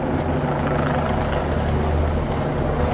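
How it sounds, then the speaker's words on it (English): A helicopter hovers overhead above a large protest crowd in central London, its steady low rotor thrum droning continuously and loud through the whole moment, with faint crowd noise underneath. "the helicopter's still above us"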